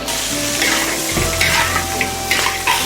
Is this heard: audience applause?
no